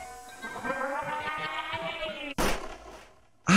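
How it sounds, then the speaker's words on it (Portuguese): A sudden sharp gunshot cracks out in a Friday Night Funkin' mod, cutting across sustained synthetic game music, with a second loud burst right at the end. "Ah, ele tomou um tiro."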